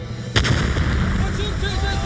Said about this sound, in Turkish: Füzeler köyü vuruyor.